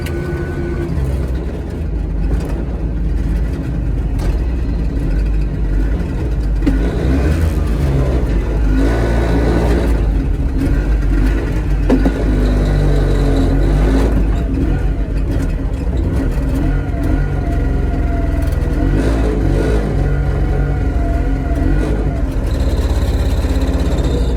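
Piaggio Ape 50 engine running loud and steady in stop-and-go traffic, its small motor droning and rising in revs with a poorly adjusted clutch, alone with no talk.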